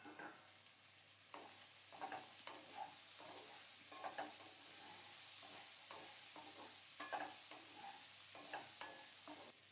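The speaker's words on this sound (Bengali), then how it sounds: "খুব সুন্দর মতো আলু ভাজা হয়ে গেছে। এখন বরবটি দিয়ে দিলাম।" Potatoes and yardlong beans frying in a pan, a steady close sizzle with repeated scraping stirs of a spatula throughout, no voices.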